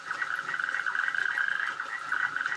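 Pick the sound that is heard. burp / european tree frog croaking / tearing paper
european tree frog croaking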